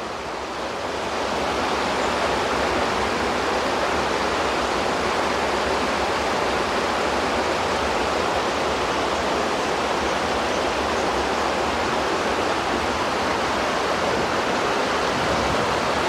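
Rushing river water where two rivers meet flows as a loud, broad, steady roar that fills the whole stretch without a break.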